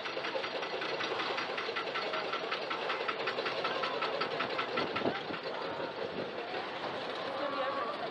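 The Mindbender roller coaster at Six Flags climbs its lift hill with a steady rhythmic clanking chain rattle and a mechanical drone, heard up close from a rider's seat over continuous wind and background noise.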